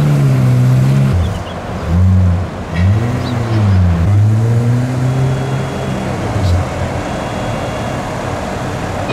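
Pagani Zonda supercar engine revving up and down while driving up a ramp at Dubai Airport, loud close-up throaty rises and falls in pitch that settle into a steady drone.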